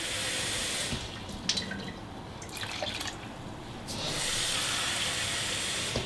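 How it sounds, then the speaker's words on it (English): Water runs and splashes into a pot, with a hissing pour that drops off briefly midway, then resumes steadily. "I'm gonna add a little more water."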